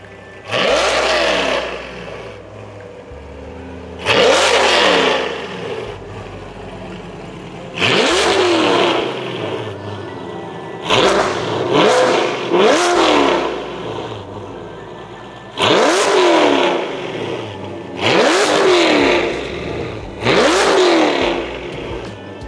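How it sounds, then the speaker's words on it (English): A 2020 Corvette C8 fitted with a Fabspeed exhaust revs repeatedly, loud sharp blips rising and falling in short bursts separated by brief idle pauses, close to the microphone. "That's the way a C8 Corvette should sound from factory."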